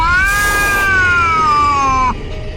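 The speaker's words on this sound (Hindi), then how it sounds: "जोरों से आवाज करती हुई बिल्ली मर जाती है।" A cat lets out one loud, sustained screech that wavers and slowly falls in pitch before cutting off abruptly, heard alone and close.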